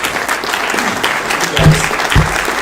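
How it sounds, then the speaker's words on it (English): A crowd at a local candidate event in Harvey County applauds in a loud, sustained round, with a couple of deeper thumps near the end. "let's give our candidates a round of applause"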